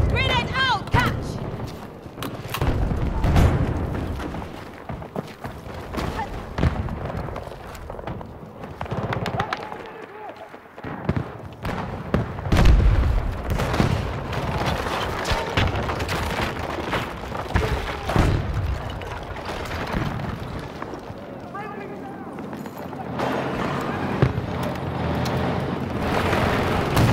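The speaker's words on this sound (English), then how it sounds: "Grenade out! Catch!" Grenade explosions in Battlefield 2042 hardcore mode on the Arica Harbor map: repeated heavy booms and crackling blasts mixed with gunfire, loud and dense throughout, with voices talking in between.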